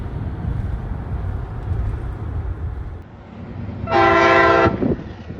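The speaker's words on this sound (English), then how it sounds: "we've been waiting for the Amtrak to pass us along US Highway 2 here" An Amtrak passenger train rumbles past close by along US Highway 2 in Montana, and a loud horn blast sounds for about a second near the end over the rolling noise.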